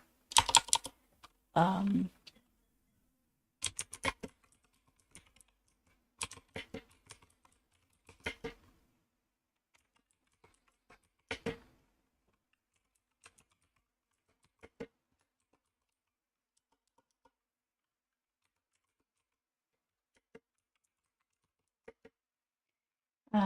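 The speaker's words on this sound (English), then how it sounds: "I'm just typing a comment into this comment section" Keys on a computer keyboard clatter in scattered bursts of quick taps separated by long quiet pauses, close and fairly soft in a quiet room.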